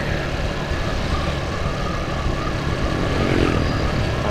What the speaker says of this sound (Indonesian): Cuman ini suara knalpot bocor ya.